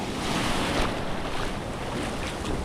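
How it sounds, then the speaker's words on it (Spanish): Ocean waves about a metre high break steadily on a Riviera Maya beach near Cancun, a constant loud roar of surf and wash with wind buffeting the microphone, and no voices. "Como mucho la ola será de 1 metro."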